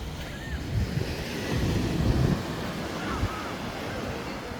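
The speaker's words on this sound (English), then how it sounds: "Quite relaxed and soothing in it, the sound of the waves." Ocean waves breaking on a beach in Gran Canaria, a steady rushing surf with swells of louder wash, heavy wind noise on the microphone and faint bird calls in the background.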